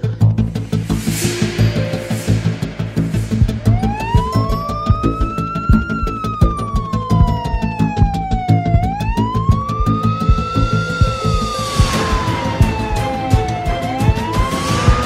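Emergency siren sweeping up and down in repeated slow wails, loud and near, over a busy background in a TV drama scene.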